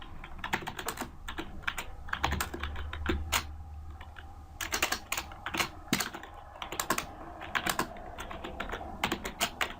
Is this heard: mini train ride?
no